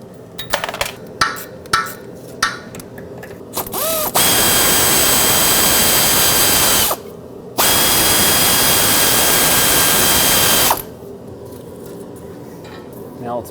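A power tool removes 8mm fasteners holding the lift pump on a 2008-2010 Ford F-450, with a few clicks and clanks, then two loud sustained whirring runs separated by a short pause.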